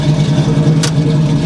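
A 1971 Chevy Nova's V8 idling with a steady low rumble through Camaro-style exhaust, loud and close, with a brief hissy burst partway through.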